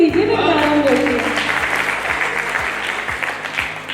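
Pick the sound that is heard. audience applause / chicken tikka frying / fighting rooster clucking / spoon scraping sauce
audience applause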